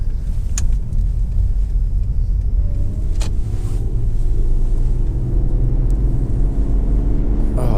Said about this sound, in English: Oh, this engine is absolutely beautiful, I have to say